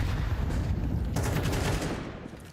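Gunfire from the Counter-Strike video game during a PGL Bucharest 2025 match: dense rapid shots and bursts, loud and close, continuing for a few seconds and then thinning out.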